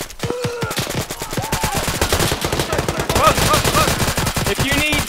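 Rapid bursts of automatic and single-shot gunfire rattle through a firefight in the Arma military video game, with dense overlapping shots near and far and brief voices calling out between volleys.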